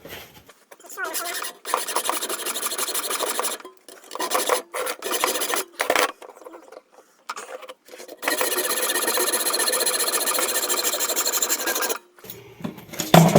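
Cutting off a section of a home-built exhaust pipe for a Hayabusa turbo kit car engine: rough, rasping bursts of a saw or cutting tool, loud and close, in several runs broken by short pauses, with a long steady stretch near the end.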